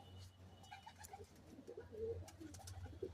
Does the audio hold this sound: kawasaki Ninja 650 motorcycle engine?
no